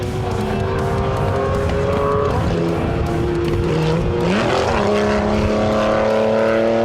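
Porsche 911R and Porsche 910 race cars racing at close quarters, with loud, continuous engine drones at several pitches overlapping and shifting as the cars change gear and jostle for position.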